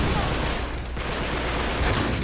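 Gunfire in the video game Uncharted 3: a dense, continuous fusillade of shots fills the scene, loud and sustained, with little talk over it.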